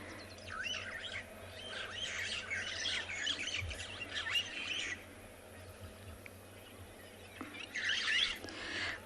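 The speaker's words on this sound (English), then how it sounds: "The starlings are very active around Chitwa Dam." Starlings call around a dam on an evening safari, sending out repeated squawks and chattering whistles in bursts at moderate distance, with quieter background ambience between calls.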